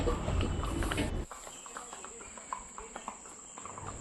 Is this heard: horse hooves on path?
yes